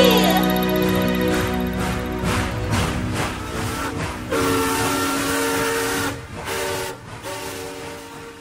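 A steam-style train whistle sounds from a small rental novelty train, a sustained harmonic whistle ringing over rumbling movement noise and broken by short pauses.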